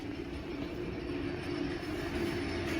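A Kone elevator rattling loudly while moving, a steady, dense mechanical clatter and rumble that fills the whole stretch with no pauses, close by and alone.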